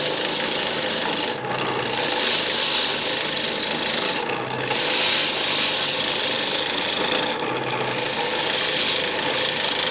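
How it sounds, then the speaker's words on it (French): Gouge scraping along wood turning on a lathe, shaving off chips as a small piece is refined, a steady close rasping with brief pauses every few seconds. "On affine petit à petit la pièce. On tire le copeau vers soi doucement."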